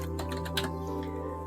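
Quick keystrokes on a computer keyboard while typing into a spreadsheet-style formula bar make a light run of clicks over a steady electrical hum, with no talk.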